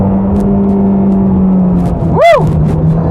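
A Ferrari Roma's twin-turbo engine hums and rumbles steadily from inside the car, then swells in a brief rising-and-falling surge near the end.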